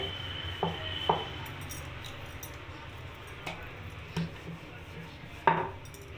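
A knife cutting potato paratha dough into large portions on a kitchen board, sparse sharp taps and knocks at irregular intervals over a quiet room hum.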